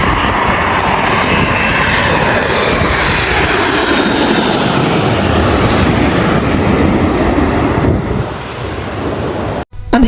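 An airliner passes over a park in Los Angeles, a loud, sustained roar of jet engines that slowly shifts as it flies by and then fades near the end.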